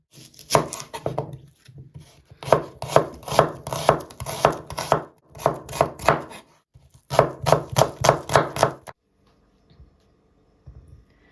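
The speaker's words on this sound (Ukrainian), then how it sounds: "Беремо 200 грам цибулі або дві середніх цибулини і нарізаємо." Onions, two medium bulbs, are sliced with a knife on a board for a potato and pickled pork bake: brisk, close, rhythmic chopping in three quick bursts of crisp taps, followed by near-silence.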